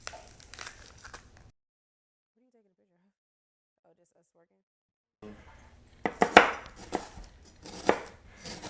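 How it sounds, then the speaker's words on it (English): A knife thinly slicing a peeled onion on a board, with a quick run of close, crisp chops after a brief pause, and a person talking before and between the cuts. "we're gonna slice this onion very thinly after we remove the outer skin"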